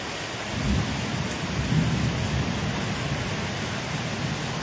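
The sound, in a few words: thunderstorm with rain and thunder in the Sundarbans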